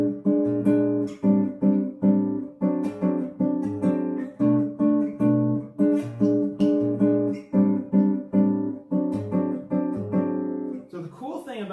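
A Brazilian jazz rhythm is played as a repeating pattern of plucked chords, with a quarter note on the second beat in place of sixteenth notes; the strokes are close, clear and regularly pulsed across the whole stretch.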